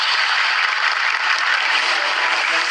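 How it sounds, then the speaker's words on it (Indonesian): Sustained audience applause at a Quran memorization recitation competition, a dense, even wash of clapping that stays loud and steady from start to finish with no voices over it. "Boleh sekali lagi tepuk tangan untuk Ibam Palembang"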